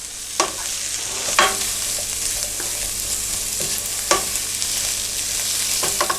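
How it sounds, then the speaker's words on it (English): Peppers and mushrooms stir-fry in avocado oil, a continuous close sizzle punctuated by periodic scrapes and clicks of a utensil tossing the vegetables in the pan. "now I'm going to throw in my peppers and my mushrooms and stir fry those around for a little bit"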